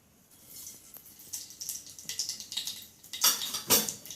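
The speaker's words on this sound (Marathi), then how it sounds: "जिरं मोहरी छान तडतडलं" Mustard seeds crackle and pop in hot oil in a pan, sharp irregular snaps clustering into louder close bursts toward the end, with no voices.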